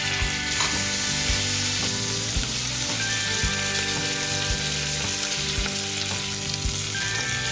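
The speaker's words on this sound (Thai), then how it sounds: "เราจะทอดหมูจนกว่าเขาจะสุกดีนะครับ" Pork tenderloin fries in a pan with a loud, constant sizzle, broken by faint regular clicks, and no talking.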